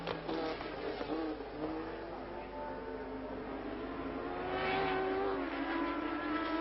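1972 Formula 1 cars race the last lap of the British Grand Prix, engines droning and rising in pitch as they pass at a distance, under a commentator's voice.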